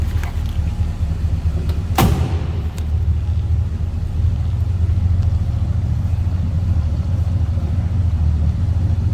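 A 1968 Ford Galaxie 500 sedan with a 302 V8 and mild stock exhaust idles steadily at the rear, a low even rumble heard up close, broken once by a sharp click or knock early on.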